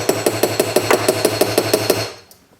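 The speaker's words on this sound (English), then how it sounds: "And then just hammer it." A hammer taps a small silver rivet through a copper cuff in a steady run of about sixteen sharp, ringing metallic strikes, close and loud, then stops.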